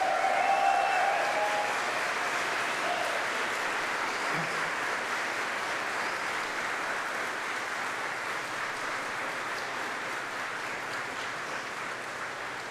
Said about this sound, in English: Please show your appreciation to the people who have supported you. Clap, cheer, whistle.